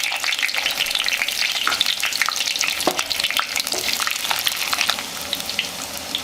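Garlic and fenugreek frying in hot oil while a nethili dry-fish gravy is cooked, a steady close crackling sizzle with a few sharper pops and stirring scrapes throughout.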